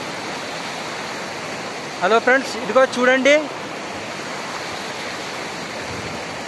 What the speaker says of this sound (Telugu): వాగు చూడండి